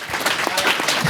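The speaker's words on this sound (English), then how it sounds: "And I think it has deserved an applause." An audience at a startup founders' event in Bern breaks into brief, lively applause, fairly close and crisp, with scattered louder claps over about a second.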